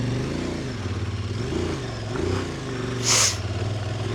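Motorcycle engine pulling away from a steep mountain hairpin corner on an alpine pass road, a steady low drone with rising and falling revs throughout and a brief burst of noise near the end.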